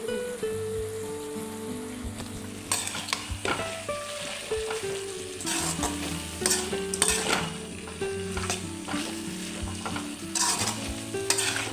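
Grated coconut is stirred into cooked vegetables in a hot pan, giving a steady soft sizzle with a spoon scraping and tapping at intervals, close and continuous, with no voices.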